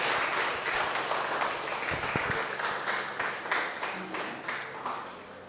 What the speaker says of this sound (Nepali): आउनुहोस् ठुलो ताली बजाउनेछौँ हामी,